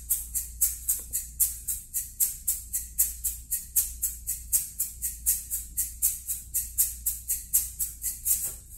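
Gourd shaker plays a basic joropo rhythm in 6/8, a steady run of crisp, bright shakes with a lilting pulse, close and fairly soft, played alone over faint low background hum.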